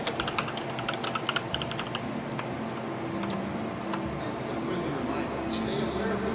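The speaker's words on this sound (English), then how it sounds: "I think somebody's typing on their keyboard." Keys clack on a computer keyboard in quick irregular bursts, faint and somewhat distant beneath a steady background hum, with sporadic taps continuing throughout.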